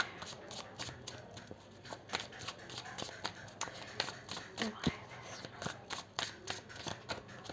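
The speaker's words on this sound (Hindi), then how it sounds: "चलिए थोड़े से और कार्ड्स निकालते हैं। 1 मोर कार्ड प्लीज" Tarot cards are shuffled and drawn, with repeated crisp flicks and taps of the deck close by, in an irregular quick rhythm.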